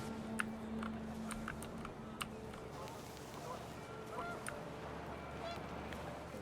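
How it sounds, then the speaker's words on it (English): Panicked geese honking in the video game What Remains of Edith Finch, a scatter of short, faint honks over a steady windy ambient bed. "The wind picked up and panicked geese appeared and quickly went."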